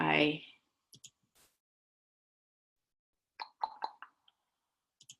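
Computer mouse clicks while setting up a website, a couple of isolated clicks and then a quick cluster of several, quiet and close, with a brief voice sound at the very start.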